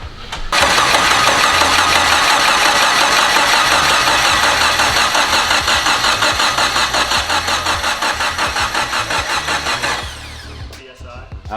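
A turbocharged K20 engine swapped into an FRS cranks over loudly and steadily for about nine seconds without catching, then the starter cuts off.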